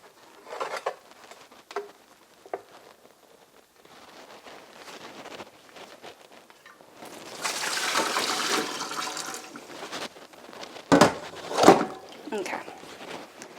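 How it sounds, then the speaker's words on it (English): Hot water is drained from a cooking pot into a kitchen sink. The clip opens with a few quiet knocks, then a loud rushing pour of water that lasts several seconds, followed by sharp clunks and splashes. "drain this water"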